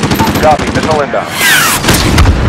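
Missile strike explosions in Call of Duty Modern Warfare: loud booming blasts and rapid gunfire over whooshing debris, with voices speaking amid the chaos.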